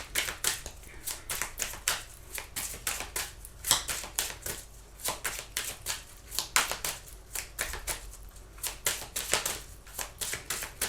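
Amazonite and other gemstone pebbles are shuffled together by hand, giving close, quick clusters of hard clicking and clattering in an uneven, repeated rhythm with no talk.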